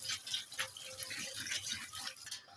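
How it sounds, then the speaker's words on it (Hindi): Cold tap water running over boiled spaghetti in a kitchen strainer, a continuous splashing, gurgling flow with uneven bursts, close and steady without talk. "छन्नी के अंदर मैं स्पैगेटी को डाल रही हूँ, तो ठंडा पानी यहाँ पे मैं खोल दूँगी"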